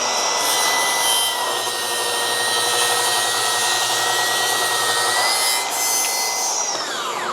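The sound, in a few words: track saw cutting thick wood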